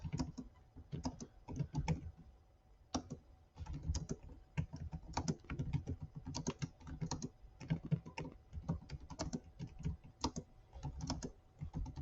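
Rapid clatter of keys on a computer keyboard while building a grading rubric, irregular bursts of taps with short pauses, close and fairly quiet with no talking.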